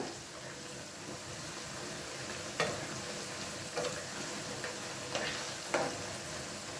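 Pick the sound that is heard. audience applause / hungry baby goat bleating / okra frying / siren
okra frying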